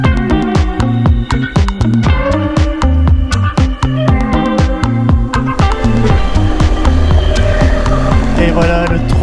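A car rolls slowly over a corrugated gravel track in a park near Cerro Tronador. Heavy rhythmic thumps and rattling from the washboard surface are loud and close, and the body and tyres keep clattering throughout.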